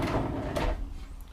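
A storage drawer slides open or shut in the work bins of a 2014 Ford E150 Econoline cargo van, a single close, solid scrape and clunk that then fades out.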